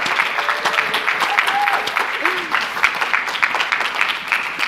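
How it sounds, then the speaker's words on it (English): An audience at a learning-themed event claps for a departing speaker, a loud, dense, continuous applause that holds steady throughout with faint voices and a whoop mixed in. "Give her a clap"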